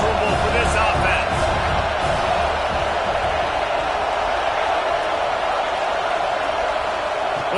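A roaring stadium crowd in the College Football 26 video game fills the background as a steady, loud wash of noise with a few brief whoops, while a commentator talks over it throughout.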